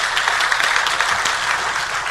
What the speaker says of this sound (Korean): 하나님의 놀라운 은혜에 감사의 박수를 보내겠습니다